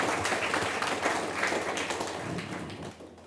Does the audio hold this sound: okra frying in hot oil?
no